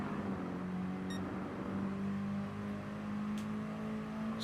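Mini Cooper Cup race cars lapping a grand prix circuit, a steady engine drone with a strong sustained tone that rises slightly as one car accelerates, plus a brief whine in the middle, continuous and fairly close.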